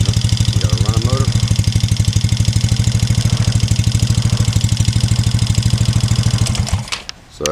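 MBX #7 Carbide vehicle's motor running close by, a loud, fast, even pulsing engine idle that rattles steadily before cutting off near the end, with a voice speaking briefly over it.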